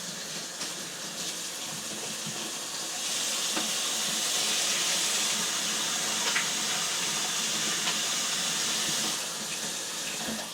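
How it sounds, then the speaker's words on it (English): Hands are washed under a running kitchen tap, a steady close hiss of flowing water that grows slightly fuller midway, with faint splashes and no talk. "let me wash my hands"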